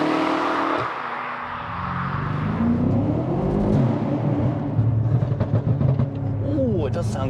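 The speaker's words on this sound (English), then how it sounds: "You get a lot of turbo spool. It's so much turbo spool." An 800 bhp BMW F90 M5 on stock turbos with aftermarket downpipes pulls hard, its engine note rising with a high turbo spool whistle toward the end, loud and close under someone talking throughout.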